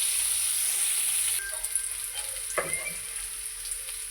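Bitter gourd slices frying in oil, a loud continuous sizzle that drops slightly partway through, with a brief stirring scrape, close and alone.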